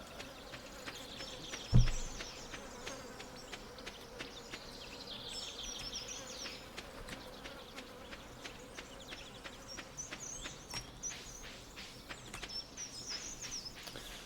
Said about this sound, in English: They had to go with flies.